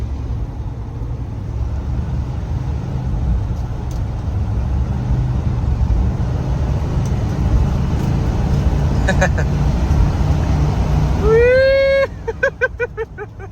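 A 1967 Chrysler 300 with a 7.2-liter 440 V8 cruises with a steady, close low engine drone and road rumble, ending in a rising tonal sweep and clicking near the end.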